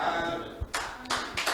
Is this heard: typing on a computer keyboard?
no